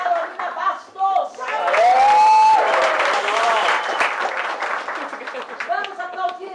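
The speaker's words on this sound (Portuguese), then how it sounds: "Vamos aplaudir Carolina Bastos!" Dense applause and cheering from an audience at a lecture on legislation and ethics, steady and loud for several seconds, with a voice over the start and crowd noise throughout.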